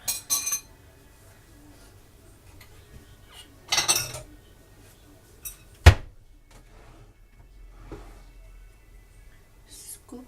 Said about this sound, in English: Let's scoop some up.